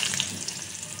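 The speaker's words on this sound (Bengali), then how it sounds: "সয়াবিন ভালো করে জল চিপে ভাজবো।" Water trickles and drips as soaked soya chunks are squeezed by hand in a home kitchen, a brief, close, splashy patter with no talking.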